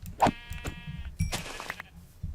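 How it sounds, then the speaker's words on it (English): Sheep in Minecraft's ATM 10 modpack give a few quick bleats, two or three nasal cries close together over faint game sounds. "Alright, 8 more sheep."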